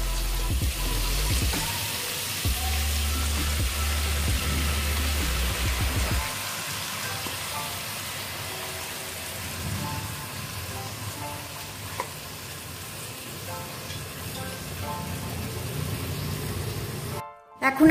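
Fried and washed mung dal goes into a hot pan of low-oil khichri with green chillies. It starts with a loud, dense sizzle for several seconds, then settles into a softer, steady frying hiss.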